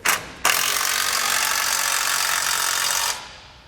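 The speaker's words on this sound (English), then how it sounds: "Now we can tighten everything down. We'll use our 15mm for this factory bolt." Ratchet with a 15mm socket tightening a factory bolt while a Roadmaster base plate is installed on a 2019 Ford, one brief click and then a steady, close, continuous whirring rattle for about three seconds, no talking.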